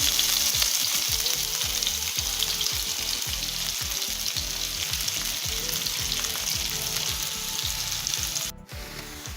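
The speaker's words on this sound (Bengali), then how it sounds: "এখন আমি একটু পেঁয়াজ দিয়ে দেবো, পেঁয়াজ কুচি," Chopped onion sizzles in a hot pan beside fried tilapia, a loud, continuous crackling fry with rhythmic stirring strokes that eases off near the end, no talking.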